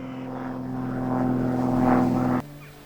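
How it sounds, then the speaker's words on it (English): A small propeller plane drones steadily overhead at an outdoor dig site, a sustained engine hum that slowly swells louder before cutting off abruptly near the end. "we have a bit of a droning noise accompanying us today. That's this wee plane."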